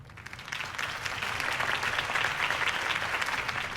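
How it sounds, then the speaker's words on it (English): A crowd applauds a campaign speech in Batman: The Telltale Series. The clapping starts sparse, quickly swells into steady, dense applause from many hands and holds throughout at moderate volume, with no speech over it. "If only Mr. Wayne, my campaign's largest backer, could have heard that applause"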